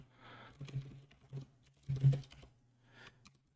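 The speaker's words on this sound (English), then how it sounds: "So let me quickly type this into our computer." Light computer keyboard typing with scattered soft key taps in a few short bursts, faint and close, with a low steady hum underneath.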